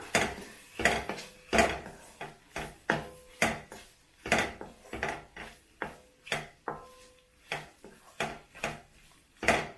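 Boiled eggs coated in masala are stirred in a pan, giving a steady run of close, rhythmic scraping and clinking strokes of a utensil against the metal, with no talking.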